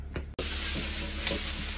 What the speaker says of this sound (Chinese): 我姨已经开始炒菜了